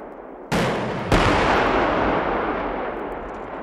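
An AT4 CS anti-tank launcher fires a HEAT round at an APC target: a sudden loud blast, then a second heavy boom about half a second later, both trailing into a long, broad rumbling decay.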